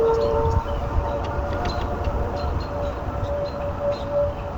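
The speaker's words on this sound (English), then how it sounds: "what you've just heard is the Monday noon siren test" Wichita's Monday noon outdoor warning siren test, a sustained steady wail carried over loud outdoor background rumble, with no voices.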